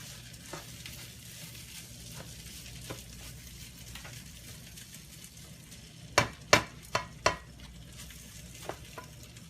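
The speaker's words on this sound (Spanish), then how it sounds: "Ahora lo revuelvo todo muy bien, lo integro, lo dejo que sofría un poquito" A mixture sizzles gently in a pan while being stirred, with soft scrapes early on and then a quick cluster of louder metallic spoon knocks and scrapes, close by.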